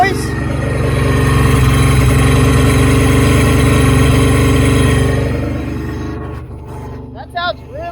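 A real jet ski engine that is leaking oil and making a scraping noise runs loudly and roughly at close range, then abruptly cuts out and dies. A brief voice follows in the quiet.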